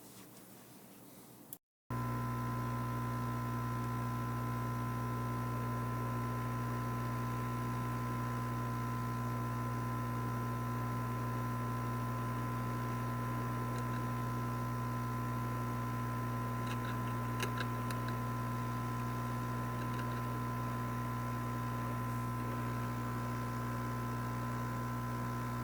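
A heat gun used for a Garmin nuvi GPS repair runs after a brief click, a loud, steady droning hum with constant airflow hiss that holds unchanged for over twenty seconds, no voices.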